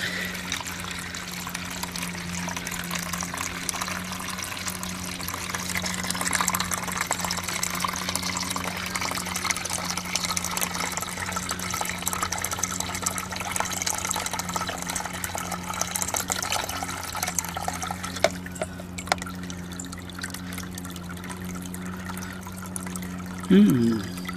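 Water runs steadily out of a water heater drain during flushing, a continuous splashing rush with a low hum underneath that holds for the whole stretch, while someone talks intermittently over it.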